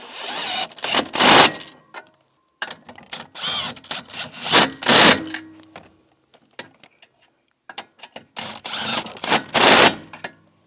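Bolts on a Chevrolet Equinox heater core are snugged down with a ratchet, rapid clicking bursts in several short runs separated by pauses, close and fairly loud, with no talking.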